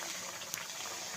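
Sapdi snacks frying in hot oil give a faint, steady sizzling hiss with a soft pop partway through, heard up close and alone.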